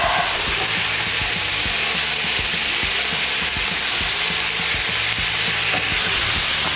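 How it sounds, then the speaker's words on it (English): Loud, continuous sizzling of meat frying in a pan for a Libyan dish, with occasional scraping and stirring sounds and no talking. "Let's stir the meat."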